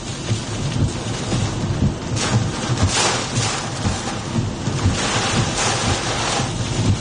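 Strong gusting wind roars ahead of a tornado storm in South Dakota, a loud, continuous rush with swelling surges and no talk.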